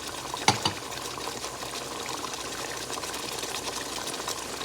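Water poured into a pot of simmering Tunisian lamb pasta on a gas stove, a short splash at the start followed by a steady hiss of bubbling liquid.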